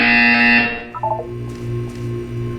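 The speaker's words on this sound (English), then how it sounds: "When you hear the buzzer, look down at the floor." A harsh electronic buzzer blares in the video game Portal 2, a loud tonal drone that cuts off after about half a second, followed by fainter mechanical hums and beeps.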